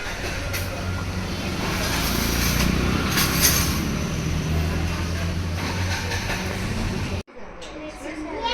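A miniature train runs at a railway museum, giving a steady rumbling, rolling mechanical noise with a low hum that swells and fades before cutting off abruptly near the end.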